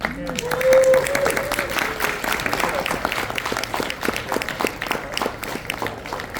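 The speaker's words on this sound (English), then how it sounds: "Give a little applause for our team." Audience applause for a team at a convention stage event, a continuous patter of clapping under a voice talking over it.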